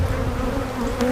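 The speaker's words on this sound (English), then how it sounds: "I think I'm just gonna end up shaking all these bees" A steady, dense droning hum of many honeybees buzzing close by at a hive during an inspection, continuous and even throughout.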